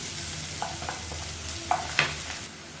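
Onions being sautéed in coconut oil in a pan, a steady soft sizzle broken by a few light scraping stirs of the spoon, close and fairly quiet.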